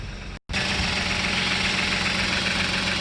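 A Kia Stinger GT 3.3 twin-turbo V6 GDI petrol engine idles close by, a smooth, even mechanical hum with a faint ticking texture after a brief cut near the start.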